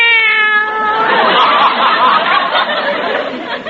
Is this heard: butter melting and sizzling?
no